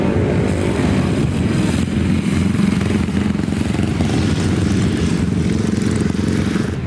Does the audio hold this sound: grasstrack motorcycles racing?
yes